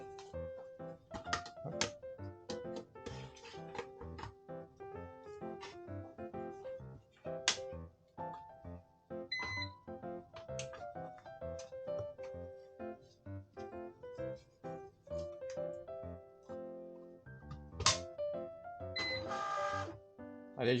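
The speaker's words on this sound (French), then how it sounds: "Je vais t'imprimer quelques stickers, tu feras ce que tu veux avec." A small label printer feeds out round stickers with a run of rhythmic mechanical whirs, clicks and stepped motor tones, fairly close and clear, with a short burst of louder buzzing near the end and no talking.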